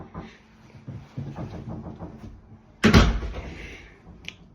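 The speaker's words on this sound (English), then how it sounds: "I had to close the door." A door slams shut indoors with one sharp, loud thud after a few seconds of faint shuffling and handling sounds, followed by a brief quiet tail.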